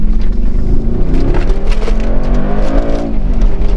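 A 2019 Mercedes-AMG G63 SUV accelerating, its engine note loud and close, rising in a strong rumbling surge that stays continuous throughout, with no talk over it.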